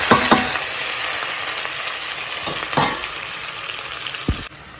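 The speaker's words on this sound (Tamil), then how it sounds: "வெட்டி வச்ச வெங்காயம், குடமிளகாய், பச்சை மிளகாய், பூண்டு எல்லாத்தையும் போட்டு வடிவாக தாளிக்கணும்" Chopped onion, capsicum, green chilli and garlic fry in hot oil, a steady close sizzle with a few sharper bursts and clinks of stirring, no voices.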